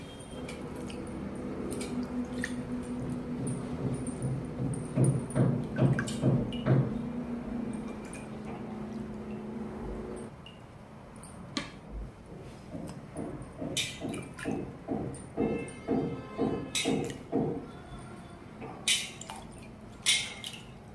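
Fresh mangoes being washed by hand in water, with repeated soft sloshing and squishing splashes and occasional clinks, fairly close, in bursts that come steadily through the clip.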